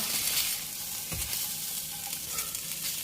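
Garlic chives and bean sprouts are stir-fried briefly in a pan for pad thai, giving a steady close sizzle with a few soft stirring scrapes and no talking.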